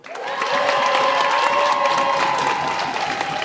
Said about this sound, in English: Can I get a massive round of applause for all the open micers?